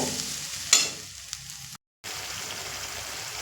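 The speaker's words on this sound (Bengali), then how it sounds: "আর সঙ্গে দিয়ে দেব হলুদ দিয়ে খুব সুন্দর করে মশলাটা কষিয়ে নেব" Spice paste with turmeric sautéing in a pan, a steady close sizzle with a brief clatter of stirring and a short dropout partway through, no talking.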